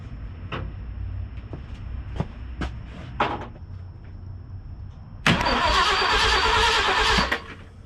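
A 1973 Ford Highboy truck engine with a newly fitted fuel pump cranks in a few short bursts, then fires and roars loudly for about two seconds before cutting back, heard close up with no talking.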